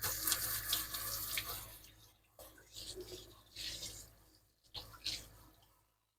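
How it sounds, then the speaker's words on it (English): A kitchen tap runs while hands are washed at a sink beside a wood cook stove, the water splashing in several close bursts that start and stop, then fading out. "I'm gonna wash my hands again."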